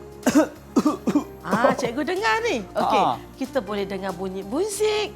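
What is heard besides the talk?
child coughing on request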